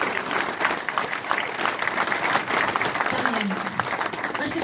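An audience at a Belle Vue Aces speedway press conference claps loudly to welcome back rider Damian, a sustained dense round of applause with scattered crowd noise throughout.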